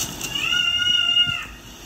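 A dramatic house cat lets out one long, drawn-out meow, loud and close, with a steady wavering tone that sounds almost like a crying baby.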